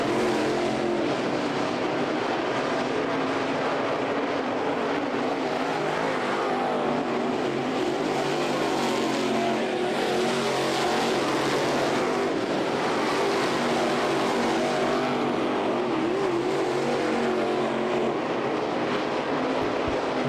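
Dirt-track race cars roar continuously through a night heat at the 2013 Ocala Winternationals. A dense, unbroken engine drone swells and fades slightly as the pack circles, with no voices over it.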